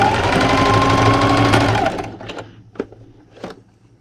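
A sewing machine stitches a quilt ruler holder in a steady, loud whir for about two seconds, then stops, followed by a few soft clicks and handling taps.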